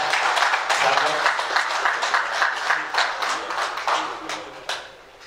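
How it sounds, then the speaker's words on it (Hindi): An audience at a Holi Milan celebration at a Sanskrit university claps in a lively burst that gradually thins and fades over several seconds, with a voice speaking over it. "ताली वादन के साथ"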